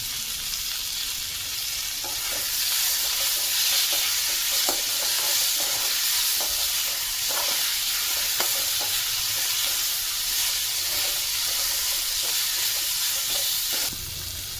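Onion, tomatoes and chillies fry in a pan for crab masala, a loud continuous sizzle with scattered scraping stirs throughout, close up and without voices, ending abruptly near the end.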